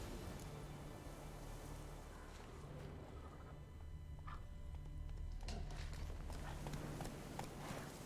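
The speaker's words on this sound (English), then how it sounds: "Ahí está el caballo." Horse hoofbeats from The Witcher 3, a steady clip-clop of a horse walking nearby over a continuous low game ambience, with scattered faint sound effects and no talk.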